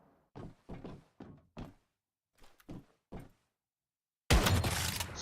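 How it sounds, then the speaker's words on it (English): Heads exploding in the shooter Once Human: several short, punchy thunks in quick succession, then a loud, sharp burst that sustains near the end. "Nothing is more satisfying than exploding heads."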